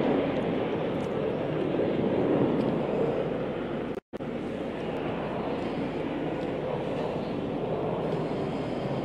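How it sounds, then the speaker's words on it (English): Multirole fighter jets fly overhead at a military air display, a continuous broad roaring rush of jet engine noise that stays loud and steady throughout with a momentary break. "those are multirole fighter jets"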